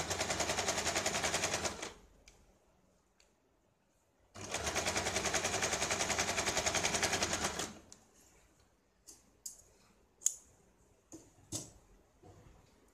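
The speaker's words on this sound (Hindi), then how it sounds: "फिर इस तरह से फिर सिलाई लगानी है" A sewing machine stitches a blouse neckline in two steady, loud mechanical bursts of about two and three seconds. Between and after the bursts come quiet pauses with scattered sharp clicks and handling knocks.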